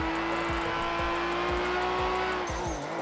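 Nissan Skyline GTR R34 drifting in GTA V, a steady high engine drone with repeated tire squeals and skids pulsing about every half second, loud and close with no talk over it.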